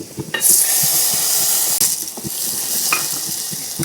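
Loud, steady hiss of crushed garlic frying in hot oil, close up, with occasional soft stirring taps against the pan.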